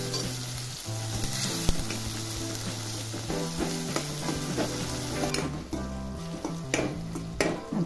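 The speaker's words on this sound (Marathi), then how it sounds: "आता टमाटर चांगला शिजवून घ्यायचा आहे," Tomato cooks in a pan for a mixed vegetable bhaji, with a continuous loud sizzle, frequent spatula scrapes and stirring clatter close by, and no speech.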